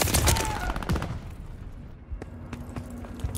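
Gunfire from a shotgun in a shooter video game, with a dense burst of loud, sharp blasts in the first second, then sparser shots and a lingering tail, close and punchy.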